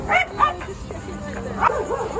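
A dog barks and yips excitedly at a dog-friendly spot in Jacksonville, with a few short, close barks and whimpers and people talking around it.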